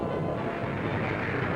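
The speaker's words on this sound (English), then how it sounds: "naval gunfire mounts to an unbelievable crescendo of thunder" Naval gunfire thunders during the 1943 Tarawa landing, a dense, continuous roar of heavy bombardment with no clear gaps between blasts, loud and steady throughout.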